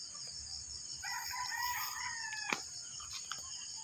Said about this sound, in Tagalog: kulungan ko dito sa mga manok